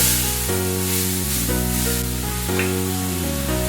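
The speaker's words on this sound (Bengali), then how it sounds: "মধ্যে একটু হিং ফোড়ন দিয়ে দিলাম দিয়ে একটু নেড়ে ছেড়ে আমি এখানে মেথি শাকটা দিয়ে দিলাম" Fenugreek leaves frying in oil tempered with asafoetida, a steady close sizzle under sustained tonal background music, with no speech.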